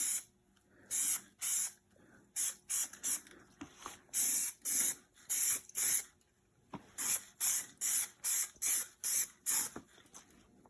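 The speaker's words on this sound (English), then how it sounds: "I'm just gonna move this one back and start spraying." Spray painting a T86 overdrive transmission for a 1955 Ford Customline, with repeated short hissing bursts from a spray can or gun, close and loud, separated by brief pauses and occasional handling sounds.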